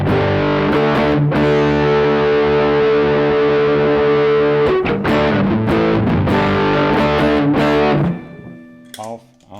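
Distorted electric guitar runs through an overdrive pedal with reverb on and the Strymon Iridium switched off, sustaining loud chords for several seconds before dropping to quieter, sparse notes with brief speech near the end.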